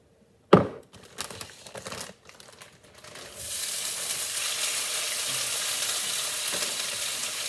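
Broccoli and minced garlic hit a hot pan with a sharp clatter, then settle into a steady, loud sizzle and frying hiss that continues close by.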